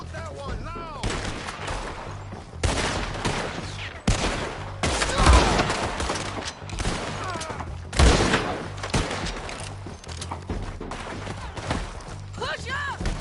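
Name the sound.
gunfire in a PS4 video game shootout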